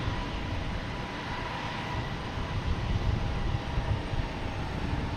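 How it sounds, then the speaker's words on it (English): A JetBlue Airbus A320 arriving at Boston Logan from JFK, a steady broadband engine roar at moderate distance that swells slightly midway and holds throughout, with no talk. "an A320 coming in from JFK"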